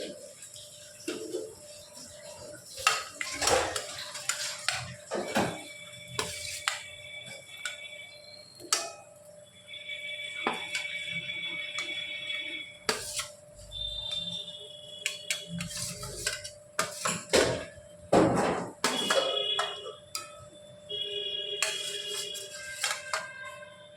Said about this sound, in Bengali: মাছগুলো ঝোলের মধ্যে দিয়ে হালকা হাতে নাড়াচাড়া করে দিয়ে